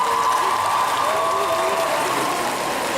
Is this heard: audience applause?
yes